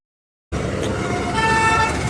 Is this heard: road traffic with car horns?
yes